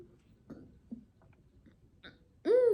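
A person gets the hiccups, making a few faint throaty clicks and catches before one loud, sudden voiced hiccup right at the end.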